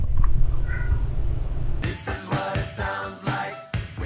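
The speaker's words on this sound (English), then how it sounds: "My cat meows from across the house during an audio project." A house cat meows faintly from a distant room, followed by a stretch of louder clattering household noise nearby.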